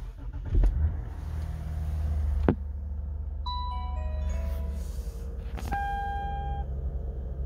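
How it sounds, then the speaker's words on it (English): A Lexus GS 350 on a cold 39-degree morning fires up with a short burst, then settles into a steady low idle while several electronic chimes ring out over the engine. "Here we go, cold start."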